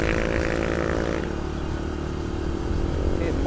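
An old Honda Astrea Grand small-cc motorcycle, under 100 cc, climbing a hill on a ride: a steady, buzzing mid-pitched engine drone with wind rush under it, running without pause.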